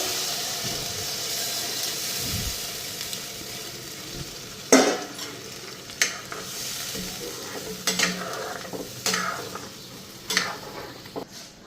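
Steady sizzle of paneer frying with spices in a pan, broken by several sharp clacks and scrapes of a spoon stirring, close and moderately loud.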